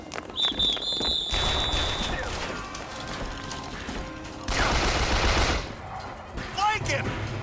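Automatic gunfire crackles through a video game firefight, with a dense burst near the start and a louder stretch midway, mixed with mechanical clatter and game sounds while voices call out over it.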